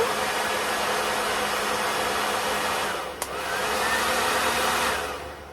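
A hair dryer runs on a portable power station with a loud steady whoosh and motor whine, briefly dips with a click about three seconds in, then resumes its continuous blowing.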